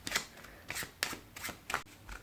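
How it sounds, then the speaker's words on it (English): A third of a deck of playing cards is riffled in about five quick, crisp bursts close by, each a short papery flutter with brief pauses between, no talking over it. "what they're going to do with that third is they're going to shuffle it"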